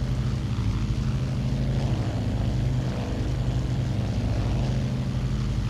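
Propeller engine of a Douglas World Cruiser in flight, a steady loud droning hum with deep rumble holding constant throughout, no voices.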